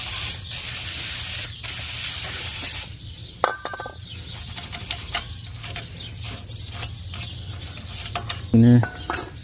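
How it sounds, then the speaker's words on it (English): Brake cleaner is sprayed from an aerosol can onto brake parts of a 2019 Infiniti QX50, a loud hissing burst at the start followed by short spurts, clinks and handling noises. "Brake cleaner."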